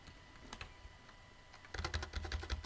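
Typing on a computer keyboard while working on a family website, with scattered keystrokes at first, then a dense, louder burst of rapid clicking in the second half. No talking.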